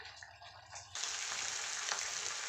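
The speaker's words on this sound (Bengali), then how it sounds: "কিন্তু এখন ভাজা ভাজা করবো। দেখেন রসুন দেখা যাচ্ছে।" Beef tripe with garlic frying in a pan: a quieter sizzle at first, then a sudden loud, steady hiss of frying that continues to the end.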